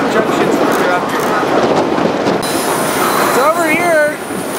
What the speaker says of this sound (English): The train is now heading northwest.